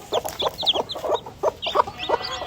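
Brooding desi hens kept for hatching eggs cluck continuously in a rapid, uneven patter of short calls, close by and moderately loud, with no voices over them.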